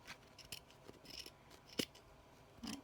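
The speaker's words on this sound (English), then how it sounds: "After that, I'm going to trim off this top section here." Scissors trimming the top section of a mini tricorne hat base, giving a few quiet, separate snips at irregular intervals against a soft background.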